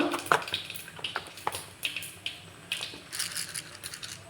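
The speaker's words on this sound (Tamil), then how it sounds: "எண்ணெய் காஞ்சிருச்சு கடுகு போட்டிருக்கேன்" Mustard seeds spluttering in hot oil for a rice uppuma tempering, heard as scattered sharp pops and crackles at a steady, fairly quiet level with no voice.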